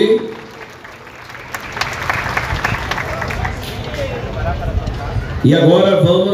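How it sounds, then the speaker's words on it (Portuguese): A street crowd applauds a school contingent at an Independence parade in Custódia, Pernambuco, with dense clapping and cheering building steadily before a loudspeaker voice cuts in at the end. "Aplausos mais uma vez aí."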